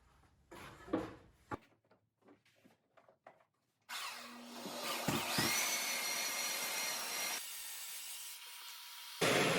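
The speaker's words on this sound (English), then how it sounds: "Now I've got 180 grit on that belt sander, so it's not taking off a bunch." A belt sander fitted with 180 grit runs on wood for about six seconds, giving a steady broadband whir. Before it starts there are short, light knocks and scrapes.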